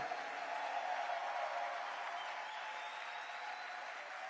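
A church congregation applauding and cheering in praise of God, a steady, sustained wash of clapping and crowd clamor lasting several seconds, moderately distant and even in level.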